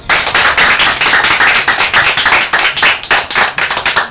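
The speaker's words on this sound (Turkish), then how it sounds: "Ama önce alkışlayalım" A student club group claps together in unison, loud sharp claps landing in a quick, even rhythm for several seconds with no talk.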